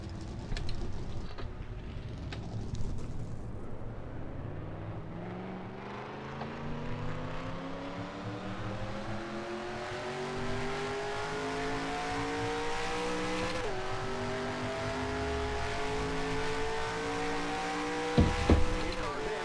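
Race car engines in the NR2003 NASCAR racing game at a superspeedway, a dense pack of cars droning and climbing in pitch together, loud and sustained, with a voice talking over the roar.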